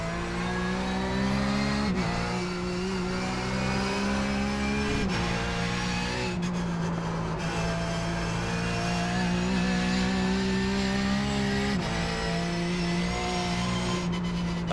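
Porsche 911 GT3 Cup racing engine in the iRacing sim at Bathurst, a loud continuous high-revving howl that drops at each upshift and climbs again, with brief lifts and downshift blips, no talking.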